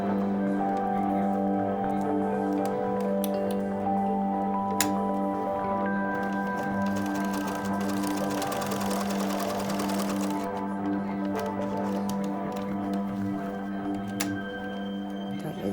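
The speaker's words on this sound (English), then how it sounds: "go and sew a box square with a zigzag." Sewing machine running steadily while stitching a zigzag box square on a circle skirt, a continuous close whirring hum with a brief faster burst midway, no talk over it.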